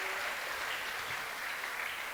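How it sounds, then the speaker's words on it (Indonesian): An audience at a South Sumatra youth retreat church service in 2023 claps in a dense, steady patter of applause, even in level throughout with no voices. "Beri tepuk tangan, saudara."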